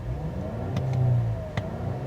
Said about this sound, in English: It doesn't sound great when you're revving it from a stop here